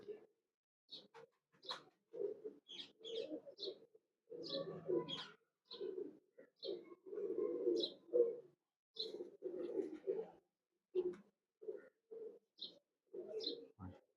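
Teddy pigeons coo close by in repeated soft, throaty bursts, with sharp higher chirps and possible voices mixed in between the calls.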